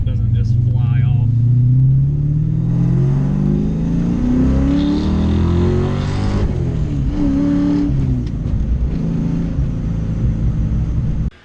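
A car with a pushrod 302 V8 pulls hard in second gear, its engine note climbing steadily in pitch over several seconds, loud and close, then easing off into a lower rumble.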